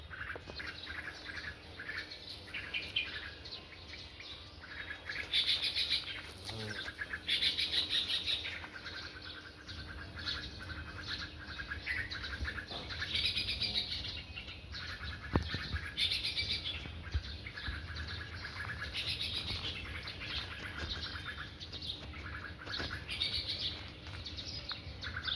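Birds chirp and tweet in bursts outdoors among trees, moderately distant and fairly faint, with some harsher squawks and a steady background hum, no voices.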